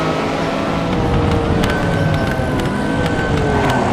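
A race car drifts in a VR sim racing game, its engine roaring loud and steady with tire hiss and a rising whine sustained throughout, no voices over it.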